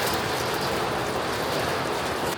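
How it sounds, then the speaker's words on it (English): Heavy rain falls during a thunderstorm in Spain, heard from inside a vehicle as a dense, steady roar of drops drumming on the surface, fairly loud and unbroken, with no talking. "It's so much rain, heavy rain."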